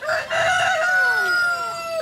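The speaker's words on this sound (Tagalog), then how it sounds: "Ingay naman ng manok nito." A rooster crows loudly and nearby, one long drawn-out call with a rising start and a falling, wavering tail, with nothing else heard.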